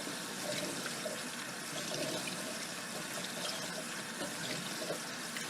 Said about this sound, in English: you're just going to let these soak in the running cold water for about 5 minutes or so